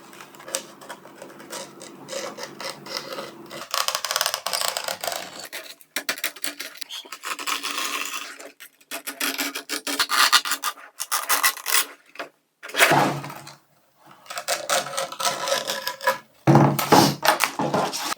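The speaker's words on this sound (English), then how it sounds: "you're going to want to cut under the grip tape around the line you just made to remove" A blade slices and rasps through excess grip tape along the edge of a skateboard deck in close, repeated scraping strokes broken by short pauses.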